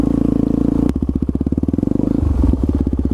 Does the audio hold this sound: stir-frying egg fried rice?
no